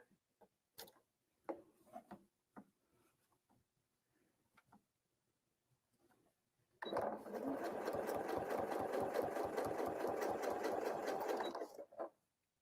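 Sewing machine doing free motion quilting with rulers: a few faint taps and clicks at first, then a steady, rapid run of stitching for about five seconds before it stops.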